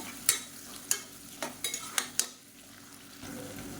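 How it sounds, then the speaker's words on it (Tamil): Onions sautéing in a pan for a Chettinad crab masala, with a soft sizzle under a series of sharp spatula taps and scrapes against the pan, fairly quiet overall. "இப்போ வெங்காயம் நல்லா வதங்கிட்டு இருக்கு"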